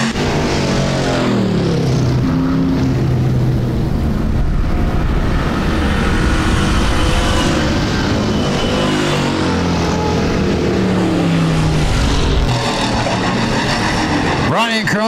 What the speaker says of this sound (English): Checkers fly this time by for the number 14 machine of Brian Crone.